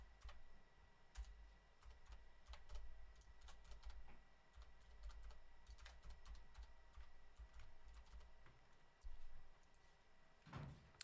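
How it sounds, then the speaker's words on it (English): Passwords are typed on a computer keyboard in quiet, irregular bursts of light key clicks, with short pauses between runs, over a low steady room hum. "why don't I come here and watch some guy type in passwords?"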